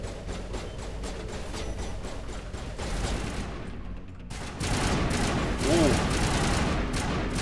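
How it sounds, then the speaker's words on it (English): Assault rifle fire in Mass Effect crackles in dense, rapid bursts over loud combat noise, pausing briefly before another sustained volley; a voice briefly exclaims. "Is this an assault rifle? I want to use this."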